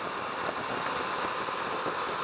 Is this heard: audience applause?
no